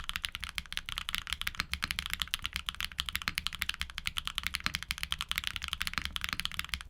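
Close, quiet typing on a keyboard fitted with Invokeys Hojicha tactile switches, a rapid steady stream of soft clacky keystrokes with no voices.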